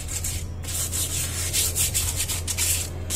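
Sandpaper rubs over the outside of a handmade cement vase in quick back-and-forth strokes, a close, steady gritty scraping with a brief pause near the start.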